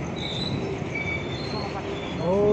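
Train at Solo Jebres railway station, a steady rumbling rail noise with faint wheel squeal and a rising rush near the end, moderately distant, with no talk.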